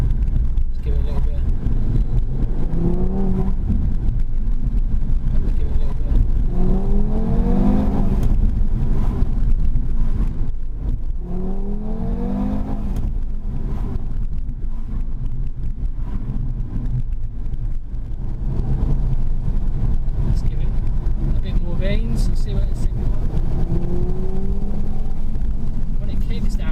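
A 2017 Audi TT RS engine drones and climbs under acceleration from inside the cabin, rising and falling through gear changes beneath steady road noise while someone talks.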